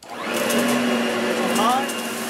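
A Riccar upright vacuum cleaner runs on sand, a steady close motor whine with a low hum that holds throughout, while someone speaks over it.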